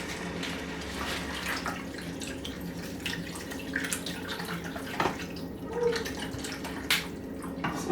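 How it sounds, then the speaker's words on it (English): Water runs from a kitchen tap while gravy for smothered cube steak is being made, a soft splashing trickle with scattered drips and clinks, faint and close. "Let me get some more water."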